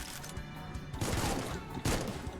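Cyclone mortar blasts in the game Supplice: two heavy, booming bursts about a second apart over a steady rumble of in-game noise, loud and close.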